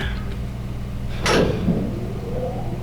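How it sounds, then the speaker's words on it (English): Elevator doors slide shut in Danganronpa: Trigger Happy Havoc, a brief hissing whoosh near the middle over a steady low mechanical hum, with faint talk in the background. "And the doors slid shut."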